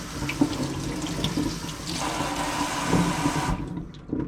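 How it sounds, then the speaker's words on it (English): Water from a tap runs and splashes over water-resistant material samples, a steady close splatter that cuts off near the end. "you could see in the video the water was flowing right off of it"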